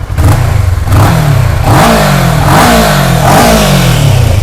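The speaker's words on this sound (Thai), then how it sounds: "ลองฟังเสียงเครื่องยนต์นะครับ เดินเบาเนียนๆเครื่องยังแน่นอยู่เลยนะครับผม" A loud Kawasaki ER-6n motorcycle engine from 2014 close by, idling roughly and then revving up in several repeated surges that rise and fall.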